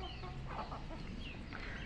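Free-range chickens and a rooster cluck steadily and close by, the hens' soft calls overlapping against a busy farmyard background with no talking.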